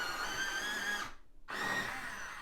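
Pencil being sharpened while drawing a blue tit, a steady whirring grind that runs for about a second, pauses briefly in silence, then resumes close and continuous.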